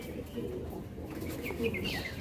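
Pigeons kept at a sale stand in Hooghly coo softly amid steady background noise, with a few faint chirps rising near the end.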